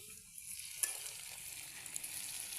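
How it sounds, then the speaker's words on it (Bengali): A curry is sautéed over a glowing coal stove, a low, faint hiss of frying with a light clink or scrape as it is stirred, steady and close, without speech. "এখানে তরকারি কষানো হচ্ছে, আমি একটু নাড়াচাড়া দিয়ে দেই।"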